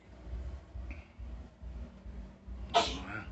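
A single sharp sneeze bursts out near the end, close and fairly loud, after a stretch of quiet low rumble and faint movement.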